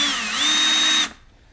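A power drill whines steadily against a rivet spinning in its hole on a 1987 Buick Grand National power antenna, then cuts off abruptly, close and loud.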